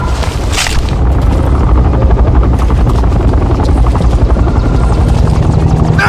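A Banshee aircraft in the Bulletstorm video game thunders close overhead with a loud, pulsing rotor-like roar, booming and chopping steadily alongside bursts of gunfire.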